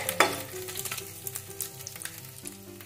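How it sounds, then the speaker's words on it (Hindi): Paneer cubes frying in oil crackle and sizzle steadily up close, with quick bursts of spattering and light stirring throughout. "अब हम अपने पनीर क्यूब्स को फ्राई करेंगे इसे बस लाइट ब्राउन होने तक फ्राई करना है"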